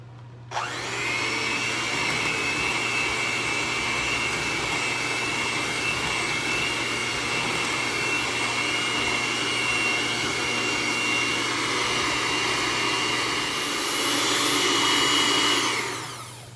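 An electric mixer whirs steadily through a cream cheese filling sweetened with sugar and lemon extract, one continuous loud drone with no pauses that swells slightly near the end before cutting off.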